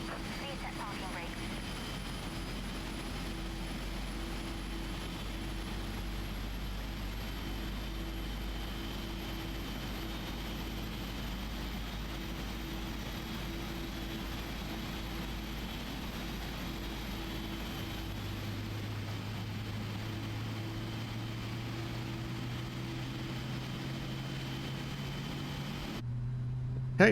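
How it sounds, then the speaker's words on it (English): Engine start on a PMDG Boeing 777-300 in Microsoft Flight Simulator, a steady turbine hum with a rising high whine and a lower tone climbing late on, ending in a brief loud click. "We have a good engine start."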